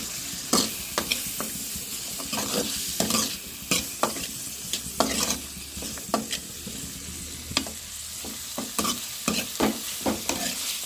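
Meat curry with tomato, turmeric and salt stirred in a hot pan: a steady sizzle of frying under repeated scraping strokes of a spoon against the pan, close and fairly loud, in an irregular rhythm with no talk.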